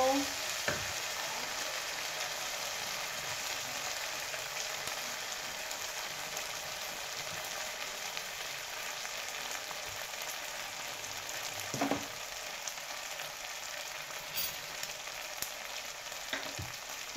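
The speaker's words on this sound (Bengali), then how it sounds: "এটা একটু ভাজা ভাজা করে নেব।" Sugar and chopped green chillies frying in oil in a pan, a loud, steady crackling sizzle throughout, broken by a few brief stirring clinks.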